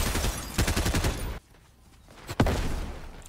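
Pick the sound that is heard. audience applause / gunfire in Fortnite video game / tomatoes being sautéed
gunfire in Fortnite video game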